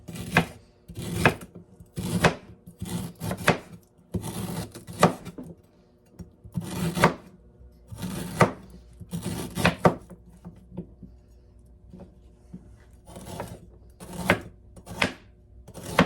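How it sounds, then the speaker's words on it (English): Knife slicing through fresh ginger root on a cutting board, a series of close, sharp chopping knocks in uneven bursts separated by brief pauses. "Now we're just gonna slice this ginger root."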